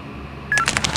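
Mobile phone keypad tones from the video game Die drei ??? Rätsel aus der Geisterwelt: a quiet start, then a quick run of short electronic beeps in the second half.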